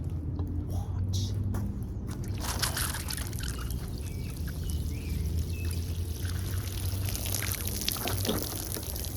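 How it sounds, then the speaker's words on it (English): Water pours steadily through the soil of a hanging basket plant and drains out beneath it, a continuous close splashing trickle that lasts the whole time. "All of the water is pouring right through the plant"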